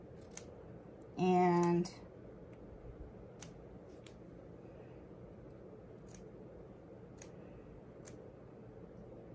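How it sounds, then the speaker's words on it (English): Scissors snip once through fabric on top of a quilt, cutting around an appliqué on an heirloom quilted blanket; a short, close cut stands out above a quiet room, with brief speech. "You want to cut the fabric that's on top, not the quilt."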